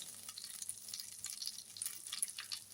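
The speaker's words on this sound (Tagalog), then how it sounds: "So, ito yung ipiprito ko sa butter, yung spatsli" Spätzle fry in melted butter in a pan, a faint, steady crackling sizzle with light popping and no talk.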